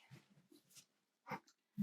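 A dog whining at the door, a few faint, brief whimpers and snuffles near the microphone in a quiet room.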